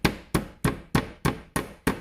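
A hammer pounds pork chops in a quick, even rhythm, seven flat, heavy smacks against a board, close by and with no voices.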